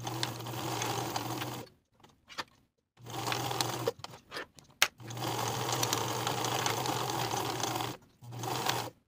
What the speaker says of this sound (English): Sew with a 5/8 inch seam allowance.